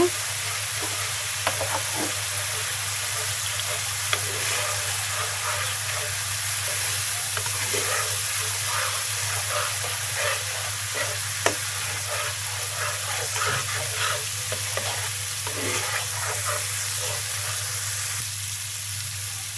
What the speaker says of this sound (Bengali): মরিচ গুঁড়ো দিচ্ছি, এখন কষিয়ে নেব।